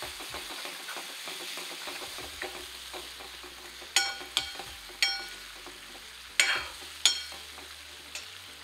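Besan pithla mixture with a pinch of turmeric frying in oil, a steady soft sizzle with stirring and several sharp utensil knocks against the pan.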